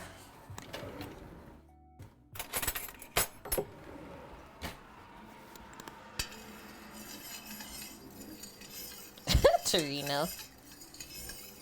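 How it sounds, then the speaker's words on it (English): Stirring a porcini mushroom dish made with sheep's milk, with spoon scrapes and clinks against the pot coming in bursts, one sharp clang near the end, and a brief spoken word. "Okay, so just stir that up."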